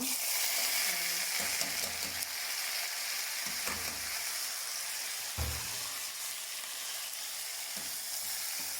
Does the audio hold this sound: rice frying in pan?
yes